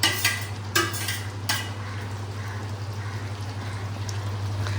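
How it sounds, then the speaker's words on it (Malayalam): A spoon stirs a pot of homemade chicken curry just after coriander leaves go in, with a few sharp scrapes at the start and then a steady low simmering hum; no talking. "അപ്പൊ അമ്മ മല്ലിയില ഇടുകയാണ് ചിക്കൻ കറിയില്."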